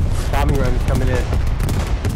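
Bombing run explosions in the Hell Let Loose video game: a loud, continuous wall of deep rumbling booms with sharp, rapid gunfire-like cracks layered through it, while a voice briefly talks over the din.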